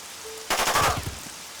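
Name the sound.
gunshot fired by merc Ice in video game Jagged Alliance 2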